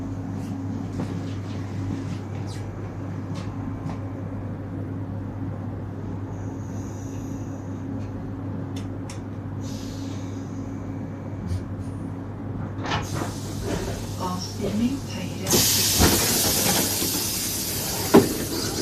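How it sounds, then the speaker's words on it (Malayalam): Train pulling out of Skøyen station in Oslo, Norway, after emerging from the underground section: a steady low rumble and hum runs throughout, building into louder rolling noise and hiss near the end, with no talking. "ട്രെയിൻ പോക്കായി"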